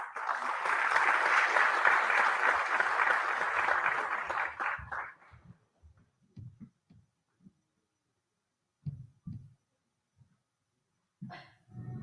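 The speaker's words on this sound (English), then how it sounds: "Let's welcome them with a loud round of applause." Audience applause for a group of dance performers at an event with a Deputy Chief Minister of Maharashtra, loud and dense for about five seconds, then breaking off into scattered claps and faint knocks.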